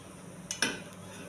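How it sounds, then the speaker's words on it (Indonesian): A spoon scrapes briefly against a pot while stirring Indonesian chicken stew (semur ayam), giving two quick close strokes over a low, quiet kitchen background. "jadi diaduk terus ya guys"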